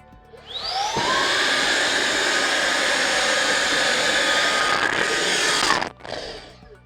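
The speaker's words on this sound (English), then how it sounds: "Use the vacuum maintenance tool." A loud, steady whirring suction motor starts up, runs at a constant high pitch for about five seconds, then cuts off and winds down.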